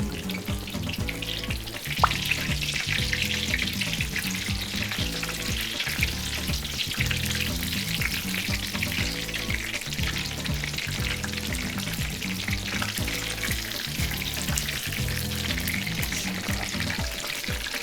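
Scotch eggs deep-frying in hot oil bubble and crackle in a dense, steady sizzle that carries on unbroken, close and fairly loud with no voices.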